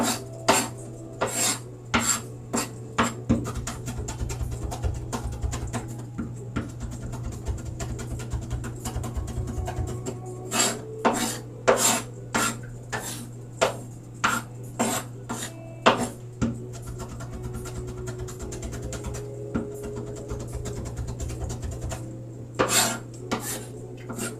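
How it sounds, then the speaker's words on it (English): Garlic is minced with rapid, rhythmic knife chops on a board in fast bursts of sharp taps, with short pauses and a steady low hum underneath. "this is definitely the fastest way to mince garlic or onions"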